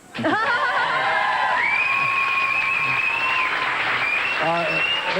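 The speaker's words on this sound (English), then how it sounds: "That's when you all supposed to applaud." Studio audience at a live music TV interview breaks into sustained applause and cheering, loud and continuous throughout, with whoops rising over the clapping.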